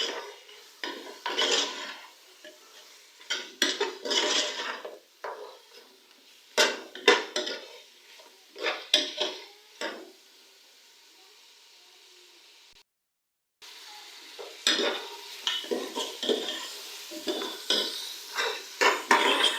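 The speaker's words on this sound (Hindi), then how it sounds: "अदरक लहसुन के पेस्ट के साथ मैंने गोश्त को 2 से 4 मिनट तक फ्राई किए हैं।" Beef being fried with ginger garlic paste in a pot for bhuna gosht; repeated close scrapes and clanks of a spoon stirring against metal over a faint sizzle, in irregular bursts with a brief silent gap midway.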